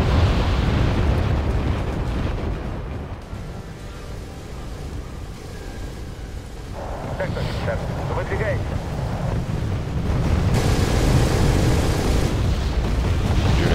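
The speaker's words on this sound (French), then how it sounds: "L'artillerie" Artillery explosions from the wartime strategy game Wargame AirLand Battle form a steady, heavy low rumble throughout, with a broad roar that swells and eases without sharp separate blasts.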